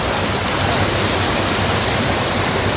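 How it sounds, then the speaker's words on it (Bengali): A small waterfall at Bijanbari near Darjeeling roars in a loud, steady broadband rush of falling water, continuous and close, with no voices. "ছোট ঝর্ণাটা"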